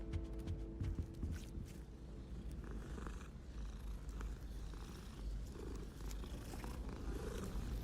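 A cat in the video game Hogwarts Legacy purrs in a soft, continuous low rumble, quiet and steady throughout with faint background game sounds.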